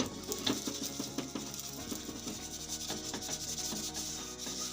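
A frying pan (wok) being scrubbed by hand to rub off burnt residue, making a steady, close, gritty rubbing and scraping with a rough back-and-forth rhythm throughout.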